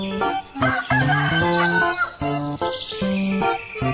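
A rooster crows loudly and close by, a long cock-a-doodle-doo repeated in several strong calls over about four seconds with no one talking.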